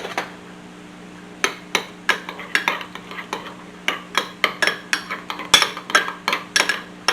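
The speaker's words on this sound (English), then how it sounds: "And then we're going to stir." A spoon stirs fresh-squeezed lemon juice into a garlicky dressing for an Italian sandwich, a close run of quick scraping clinks against a bowl, starting after a brief quiet pause and continuing steadily to the end.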